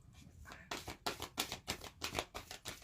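Oversized oracle cards being shuffled by hand, a run of crisp riffling bursts repeating in a steady rhythm, fairly close and moderately loud with no talk over them.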